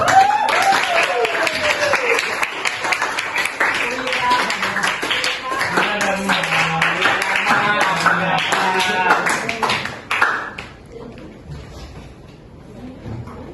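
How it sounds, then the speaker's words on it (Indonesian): A classroom of students applauds together in an economics lesson, a dense, loud burst of clapping lasting about ten seconds before tapering off, with voices mixed in. "Beri dulu, tepuk tangan dulu."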